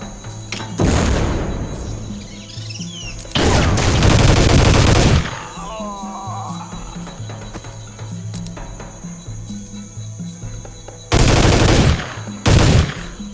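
Enemies open fire in the video game Soldier of Fortune 2: loud bursts of automatic gunfire of a few seconds each, with thuds and game effects in the quieter gaps between them.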